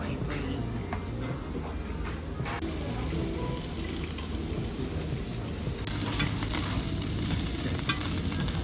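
Meat grilling at a restaurant in Hokkaido, Japan, giving a steady close sizzle and crackle that grows louder partway through, with a low murmur of voices and dining-room noise underneath.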